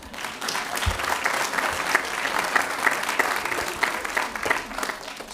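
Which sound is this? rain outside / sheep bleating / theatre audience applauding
theatre audience applauding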